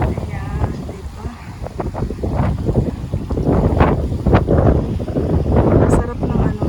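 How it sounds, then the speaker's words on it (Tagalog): Strong wind buffets the microphone in gusty, rumbling bursts, loud and close throughout, outdoors among flowers in Hong Kong. "Sarap ng hangin."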